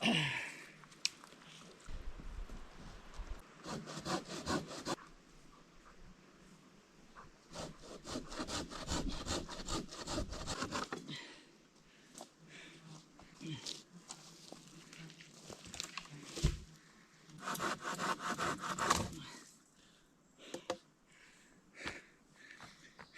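Bursts of rapid sawing with a folding Silky hand saw through wood come and go in several bouts, close up in the Canadian wilderness, with breathing and brief pauses between the rasping strokes.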